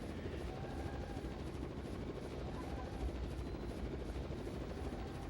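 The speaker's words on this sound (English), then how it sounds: "There comes another helicopter" A helicopter in the video game Raw Danger thrums steadily with a dense rotor and engine rumble, constant and moderately loud throughout.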